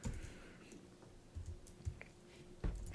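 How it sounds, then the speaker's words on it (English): Quiet, scattered clicks of typing on a computer keyboard come in short irregular bursts, soft and close, with no talking over them. "Excuse my typing."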